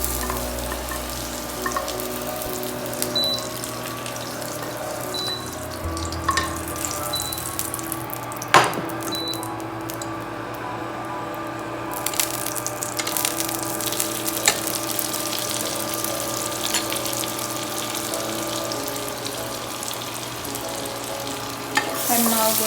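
Vegetables for a pizza topping half-cooking in a pan, a low steady sizzle with occasional stirring scrapes and one sharp clink, continuous and fairly even throughout.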